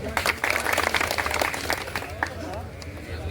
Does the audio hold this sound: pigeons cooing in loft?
no